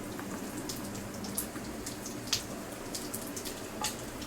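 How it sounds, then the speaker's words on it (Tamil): Neatly sliced onions dropped into hot oil give a steady, moderate frying sizzle with scattered sharp crackles and pops, and no voices over it. "எண்ணெய் சூடாயிடுச்சு. ஆனியன் போட்டுக்கலாம்."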